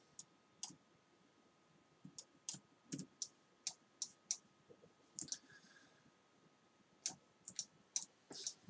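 Sharp, quiet clicks of a mouse and keyboard during Photoshop work, arriving in irregular bursts and singles, close and dry over a faint background hum.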